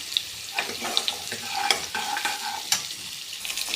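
Chopped onion, curry leaves and green chilli sautéing in a pan for semiya upma, a close bright crackle with brisk, repeated spatula stirs clattering over the sizzle.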